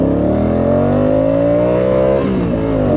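A Honda Africa Twin motorcycle engine revs loud and close, its pitch climbing steadily for about two seconds before easing off, a continuous droning roar throughout.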